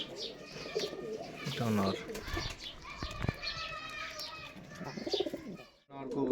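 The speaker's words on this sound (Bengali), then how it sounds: "আর এটা হলুদ চোখের একটা জাগ মুখা দোবাস টাইপের মাদি কবুতর" Pigeons coo under a man's speech, with bursts of wing flapping among the birds close by.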